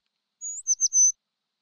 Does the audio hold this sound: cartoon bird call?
yes